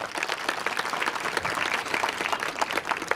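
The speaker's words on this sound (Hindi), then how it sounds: "मैं चाहता हूं उन सब बच्चों के लिए आपने जोरदार तालियां एक और बार बजाना" Sustained audience applause after a children's patriotic song performance at a high school event, many hands clapping densely and steadily at moderate loudness throughout.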